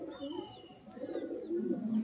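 Pigeons in a home loft in Haldia coo softly and close by, with a few low throaty coos rising and falling over two seconds.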